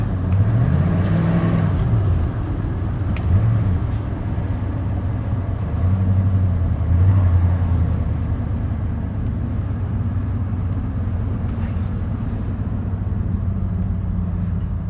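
An abandoned 1991 Ford XL 4x4 truck being driven, its engine a steady low drone with road rumble, rising slightly in pitch at moments, close and continuous with no talk.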